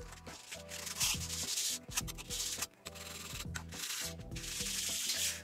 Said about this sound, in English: I'm literally just rubbing it over the stone